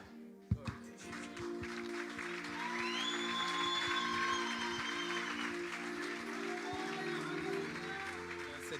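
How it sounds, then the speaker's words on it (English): Church congregation applauding after a Sunday sermon, a steady wash of clapping that swells and holds throughout, with a sharp knock near the start and some voices mixed in. "Let's give Moruti Choma a round of applause once more time"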